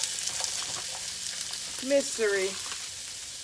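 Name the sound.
oil sizzling in a pan while cooking risotto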